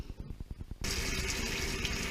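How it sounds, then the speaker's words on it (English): Warm water runs from a tap into a utility sink, a loud, steady gushing stream that follows a few seconds of softer knocks and handling noises, with no speech. "So I'm filling the sink, my utility sink, with warm water."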